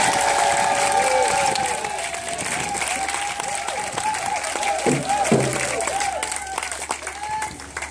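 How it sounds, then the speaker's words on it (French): A church congregation at a praise and worship gathering in Divo applauds and cheers for Jesus, with dense, continuous clapping and cheering from a large crowd alongside voices and music. "Est-ce qu'on peut acclamer Jésus?"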